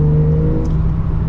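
A Porsche 992 911 Carrera engine pulls hard with a smooth, steady tone over a short burst, close and loud from inside the car, with no talking.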